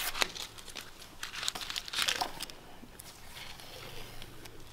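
Masking tape peeled off freshly repainted panels of a Bobcat 773 skid steer, giving a series of crinkly, tearing rips close by, with a louder burst in the middle and no talking.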